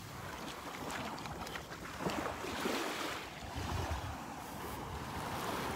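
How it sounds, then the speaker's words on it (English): Ocean waves wash onto a Florida beach at Delnor-Wiggins Pass State Park in Naples, a soft continuous surf roar with wind buffeting the microphone and no talking. "Just strolling along the beach, enjoying the sights and the sounds."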